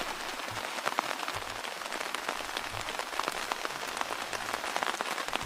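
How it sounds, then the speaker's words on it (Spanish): Synthetic rain drumming on a camping tent: dense, steady patter of drops with sharper individual taps scattered throughout, close and continuous for the whole stretch, with no voices. "esto dice como un sonido de lluvia dentro de una tent, que es como una caseta de campaña"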